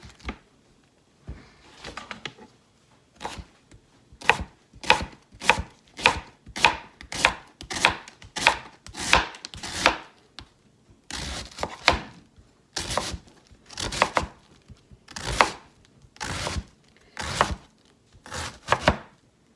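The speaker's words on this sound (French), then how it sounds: "Puis il me reste le chou à couper. J'ai 4 tasses de chou à couper." Cabbage being chopped with a knife on a board, a close run of crisp, fairly regular thuds in bursts with a couple of short pauses.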